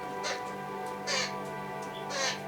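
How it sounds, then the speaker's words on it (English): Babblers call near a wildlife hide in a few harsh, raspy bursts about a second apart, moderately close over a steady low background hum. "we got some babblers making a noise here in the hide"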